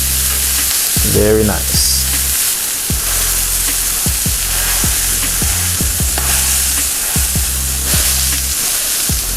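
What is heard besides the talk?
sausages frying on a griddle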